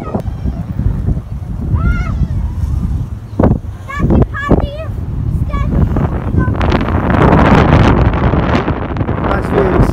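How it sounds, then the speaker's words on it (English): Strong wind buffets the microphone with loud rumbling gusts, while a person talks and exclaims through the noise. "Whoa, it's windy."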